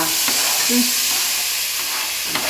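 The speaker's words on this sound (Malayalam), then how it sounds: "സവാള വതക്കുന്നു" Onions sautéing in a pan in a Kerala home kitchen, a steady broadband sizzle running throughout with a couple of soft stirring scrapes, close and moderately loud, no talking.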